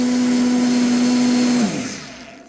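A blender whirs loudly and steadily with a strong motor hum while blending peppers and onions for Nigerian moimoi, then winds down and fades near the end.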